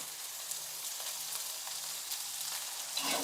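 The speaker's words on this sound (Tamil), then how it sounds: "உளுத்தம்பருப்பு நல்லா வதங்கட்டும்" Urad dal and coconut roast in a pan for a mint-coriander thuvayal, producing a soft, even crackling sizzle close by, with faint stirring at the end.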